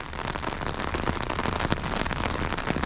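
Heavy rain pours down steadily, a dense continuous hiss of drops striking surfaces, loud and unbroken.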